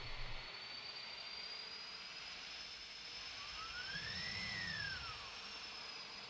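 Jet engines of an Airbus Beluga A300-600ST in a flight simulator, a faint steady high whine and broad rushing hum, with a tone that sweeps up and falls away midway as the engines are cut, distant and without talking.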